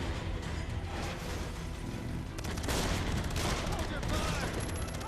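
Gunfire in the video game Beyond Two Souls: a dense, continuous fusillade of rapid shots and bursts, loud and close throughout, growing harsher partway through with no clear gaps between reports.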